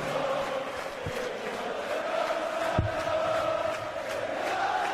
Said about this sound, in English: you can hear that noise from this crowd. An incredible atmosphere here in Belfast.